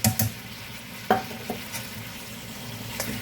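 Chopped garlic, about four to five cloves, is added to a hot pan for shrimp and chicken ramen and gives a soft, steady sizzle, with sharp scrapes and clinks of stirring near the start and around the one-second mark.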